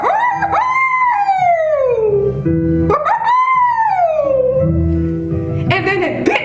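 A human voice imitates a wolf, producing two long, loud, drawn-out howling calls that rise and then slide downward, followed by a rougher outburst.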